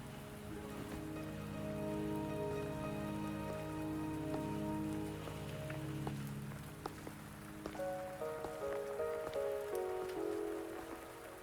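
Rain falls in the video game Wuthering Waves as a soft, continuous patter on surfaces, faint and steady beneath sustained musical tones, with no one speaking.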